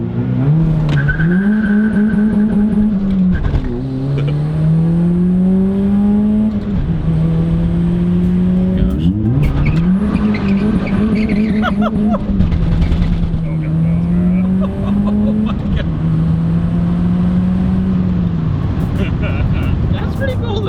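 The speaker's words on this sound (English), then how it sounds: "No blow off valve, straight surge" Turbocharged daily driver without a blow-off valve, engine revving hard in repeated pulls with fluttering compressor surge chatter between them, loud and close, while people talk over it.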